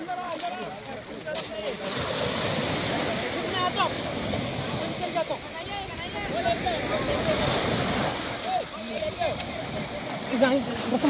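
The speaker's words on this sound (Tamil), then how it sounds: "நல்லா பீச்சு பேர் பர்பிள் பீச்." Waves wash steadily onto Purple Beach, a pebble beach below a rocky hill, in a continuous close surf wash mixed with wind, while people talk over it.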